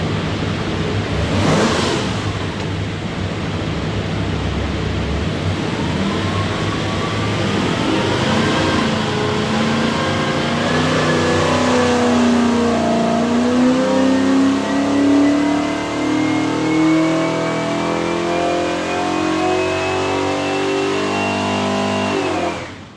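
A 383 stroker Chevy V8 roars on a dynamometer for a full pull, its loud, steady engine note climbing gradually in pitch as revs rise across the run, with no talking over it.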